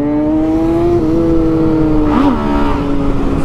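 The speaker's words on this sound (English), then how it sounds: "wheel spin" A ZX6R or MT09 sport motorcycle engine revs hard and loud during wheel spin, a sustained up-close roar with pitch wavering and a sharp rise and dip midway.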